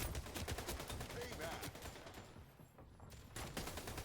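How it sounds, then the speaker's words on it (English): Rapid bursts of video game gunfire in Time Raft, dense repeated shots with a brief lull near the middle, loud and close, with faint talk mixed underneath. "I've been hearing a lot of headshot noises"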